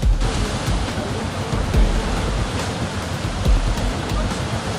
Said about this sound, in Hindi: बोरवेल की खुदाई के दौरान अचानक पानी बाहर निकल आया।